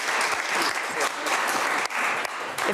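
Sustained applause from a conference audience at an economic forum meeting, a dense, steady wash of clapping hands filling the whole stretch with brief dips, no speech over it.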